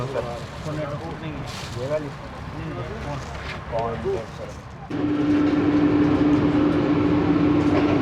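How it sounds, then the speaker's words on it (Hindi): Shalimar Express passenger train pulling away from Rahim Yar Khan station, heard from inside: steady rumble and clatter that swells into a louder, sustained rolling roar with a tonal hum, people talking over it early on. "दोस्तों तकरीबन 5 मिनट का स्टॉप किया है रहीम यार खान पर और अब रवाना हुई है ट्रेन"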